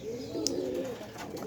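Domestic pigeons give a brief, soft, low coo, heard close and steady over a quiet background.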